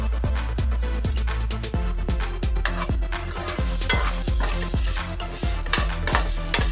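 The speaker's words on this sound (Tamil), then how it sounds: "தேங்காய் நல்லா கோல்டன் ப்ரௌன் ஆகணும்." Grated coconut fries in a pan for a coriander-leaf chutney, giving a steady loud sizzle. A spoon scrapes and stirs it at a regular rhythm, up close.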